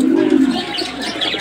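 A fancy pigeon coos nearby, a low throaty warble followed by softer chirpy sounds, brief and close.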